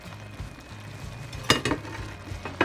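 Chopped vegetables and leaves tossed into a hot pot of chop suey, with a soft steady sizzle broken by a couple of sharp clattering bursts from utensils and the pot.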